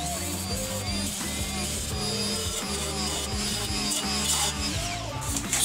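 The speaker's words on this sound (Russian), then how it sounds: "Берем шлифмашинку и обрабатываем все края." Electric sander working over the edges of a screwed-together wooden build, a continuous close grinding whir with shifting rubbing tones throughout, loud and steady, no voices.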